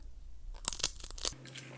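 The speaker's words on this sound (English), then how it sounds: "These are thin and crispy and crunchy like a potato chip." Thin, crispy plantain chips being bitten and chewed up close, giving a few sharp, quiet crunches in quick succession, with no talking.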